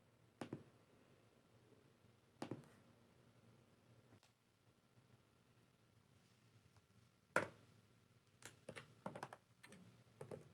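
Scattered quiet taps and soft keystroke bursts at an ASMR travel agent's desk as an itinerary is written down, close and hushed, with long near-silent gaps between short clusters.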